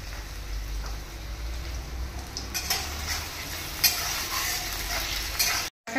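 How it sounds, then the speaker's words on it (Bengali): Potatoes frying with a little salt in a pan for ghugni, stirred as they cook: a steady close sizzle with scraping stirs and a few sharper clinks, with no talking. "আলুটা ভাজার সময় একটু সামান্য লবণ দিচ্ছি"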